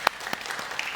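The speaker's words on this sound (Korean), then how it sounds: "환영의 박수" Congregation at a Sunday worship service in Singapore claps in welcome, a brief burst of a few sharp, separate hand claps in a quiet room.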